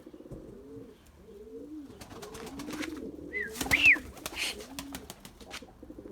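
Large male pigeons coo in repeated low, rolling calls close by, with a few higher chirps and a brief flurry of rustling partway through.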